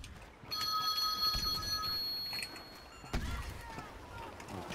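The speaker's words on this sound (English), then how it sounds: "Oh, I'm getting a phone call." A phone rings with a repeated electronic bell tone, fairly quiet, followed by soft knocks and other noises after the ringing stops.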